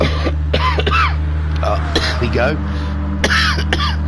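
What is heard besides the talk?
cough and throat clearing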